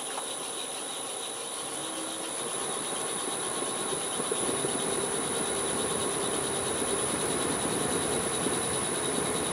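A wood lathe spins a cherry crotch blank at about 580 RPM, giving a steady, even whirring hum with a constant high whine, alone and unbroken throughout.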